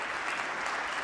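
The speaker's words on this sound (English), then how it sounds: "Let's give them a round of applause." A church congregation claps in a brief, dense burst of steady applause, fairly faint and even throughout, with no voices standing out.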